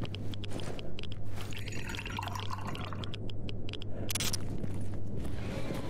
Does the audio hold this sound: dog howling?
no